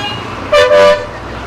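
Steady traffic rumble with a car horn honking twice in quick succession, clear and fairly close.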